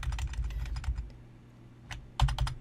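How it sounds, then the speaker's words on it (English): Arrow keys on a computer keyboard tapped in quick bursts of crisp clicks, pausing briefly before a final flurry of presses, close and clear over a low background hum. "I'm going to use the arrow keys to nudge it to where I want to put my headlights"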